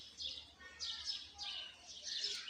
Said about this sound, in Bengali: তো এখন বাজে বিকেল তো বিকেলে শব্দ পাখির ডাক কিচিমিচি